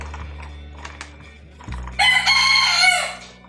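A backyard rooster crows loudly and close by in a single drawn-out call, following a few soft clucks over a low steady hum.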